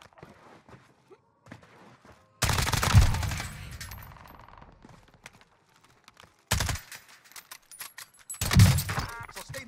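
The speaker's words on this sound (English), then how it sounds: "Sustaining fire here." Bursts of Call of Duty: Warzone gunfire with a G36C-class weapon in play: several loud automatic volleys separated by quieter stretches of clicks and movement, with a voice talking between shots.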